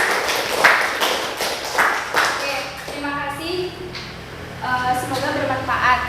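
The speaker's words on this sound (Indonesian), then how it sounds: "Berikan tepuk tangan." A classroom of students claps for a group that just presented, with sharp rhythmic claps near the start giving way to children's voices talking over the fading applause.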